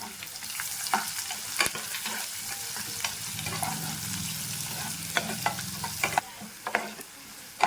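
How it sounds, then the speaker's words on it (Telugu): Chopped onions frying in a pan crackle and sizzle steadily while a utensil stirs them, adding frequent scraping clicks and knocks; close and moderately loud, with no talking. "కట్ చేసుకున్న ఆనియన్స్ కూడా మనం బాగా ఫ్రై చేసేసుకోవాలి."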